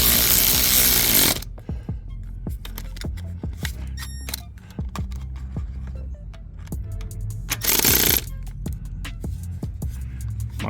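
A Milwaukee cordless power tool works on a bolt while replacing Smart Fortwo engine mounts, giving loud bursts of whirring at the start and again near the end, with scattered metallic clicks and clanks in between.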